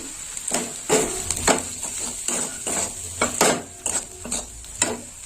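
Spice paste with red chili powder and salt is stirred and fried in a pan for a fish curry, a steady close sizzle broken by repeated scraping stirs and clinks of a spatula against the metal.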